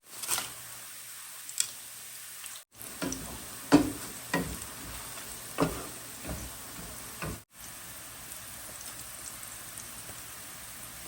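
Onions fry in oil with salt in a pan, giving a quiet, steady sizzle broken by scattered utensil taps and scrapes, with two brief dropouts.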